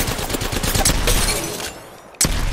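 Shotgun blasts and surrounding gunfire in the battle-royale game Apex Legends, loud and close, with a final sharp shot after a brief lull.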